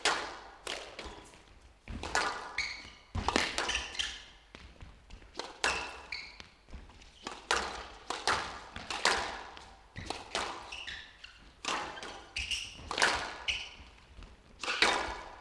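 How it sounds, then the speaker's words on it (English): Squash match at the 2018 Qatar Classic, with repeated sharp ball strikes and thuds off wall and floor during a rally, interspersed with crowd and arena noise, fairly loud and steady over the whole stretch. "oh, what a kill shot."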